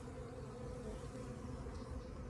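Honey bees swarm around a hive as brood is placed inside, giving a steady, faint, close buzzing hum with no voices.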